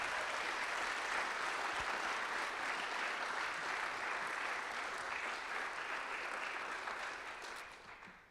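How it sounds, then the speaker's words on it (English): A keynote audience applauds its sponsors and supporters with steady, continuous clapping from a mid-distance crowd, holding level before fading out at the close. "can we give a big round of applause to our sponsors and supporters?"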